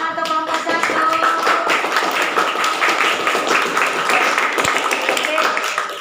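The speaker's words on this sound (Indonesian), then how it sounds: "tepuk tangan untuk kelompok 1" A group of classmates claps for a presenting group in a teacher-training class session, with dense, continuous clapping over several seconds and some voices underneath.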